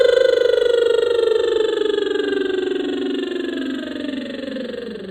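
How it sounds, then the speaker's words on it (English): A singer performs a continuous lip trill as a vocal warm-up, air buzzing through relaxed lips with a steady pitched tone that glides slowly downward over about five seconds, close and fairly loud, with no talking. "Lip trills, if you don't know what they are, is we're sending air through our lips."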